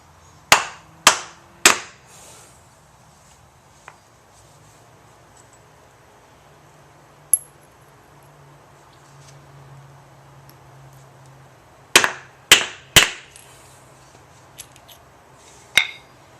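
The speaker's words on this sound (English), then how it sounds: "use another block here and tap it right into place until it goes all the way in" A BMX bottom bracket is tapped into place with a block: sharp, close knocks in quick groups of three, with a few isolated taps in between and quiet pauses.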